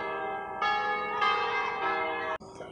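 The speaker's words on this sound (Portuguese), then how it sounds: "Olha a igreja tocando sininho." Church bells in Brugherio, Italy ring out in overlapping, rich metallic strikes with long sustained tones, loud and close, before cutting off abruptly near the end.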